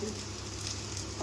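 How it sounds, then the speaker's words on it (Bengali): Tender bottle gourd slices fry in a covered pan over a medium flame, giving a quiet, steady, soft sizzle that runs without pause. "যেহেতু এটা কচি লাউ সেহেতু মানে নরম তো ওই জন্য তাড়াতাড়ি ঢাকা দিয়ে ভাজলে নরম হয়ে যাবে"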